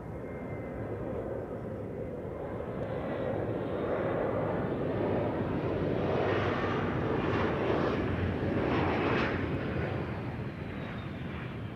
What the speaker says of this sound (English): Sounds like I'm hearing engines spooling up somewhere in the distance.